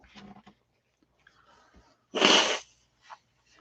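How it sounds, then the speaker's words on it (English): A single sharp sneeze bursts out loudly, preceded by soft breathy sniffing and followed by a brief faint exhale. "I got to blow my nose after sneezing"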